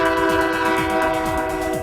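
A commuter rail train sounds its horn in a loud, steady, sustained chord blast close by, with the rhythmic clatter of wheels on the track underneath.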